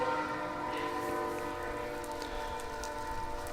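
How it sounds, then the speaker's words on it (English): A train passes close by, a steady rumbling roar with sustained horn-like tones running through it the whole time, fairly loud and continuous with no talking. "Sorry for the train."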